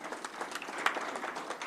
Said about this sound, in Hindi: जोरदार तालियां बजा के आप सब लोग स्वागत करें।